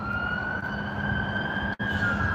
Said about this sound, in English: we got more sirens again